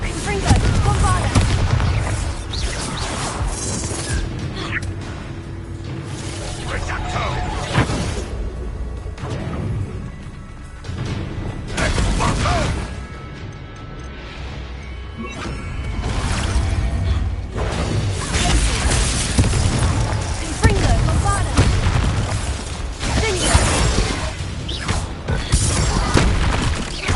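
Confringo and Bombarda spell blasts in the Hogwarts Legacy game, repeated loud booms and whooshing bursts over about half a minute of busy combat noise, with voices speaking at times.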